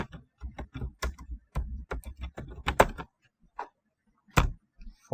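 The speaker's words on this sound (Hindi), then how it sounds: "मैं टेक्स्ट कुछ टाइप कर लेता हूँ।" Keystrokes rattle on a computer keyboard as text is typed, fast irregular clicks in bursts with short pauses, close and clear with no talking.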